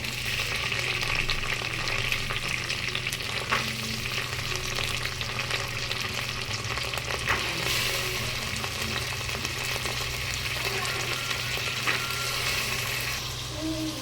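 Onion, mint and peas fry in oil in a pan, giving a steady, close, continuous sizzle with occasional stirring scrapes and no talking.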